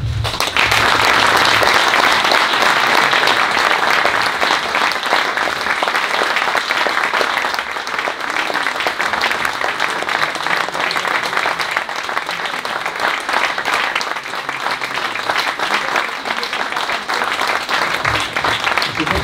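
An audience at a National Order of Merit medal ceremony applauds after a speech, sustained, dense clapping from a full room that stays loud and even throughout with no break.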